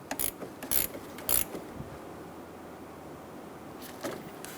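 A hand ratchet snugging the negative battery cable bolt during a starter replacement on a 1988-1999 GMC K1500 with a 5.7L V8, heard as a few short, close bursts of clicking over a quiet hiss.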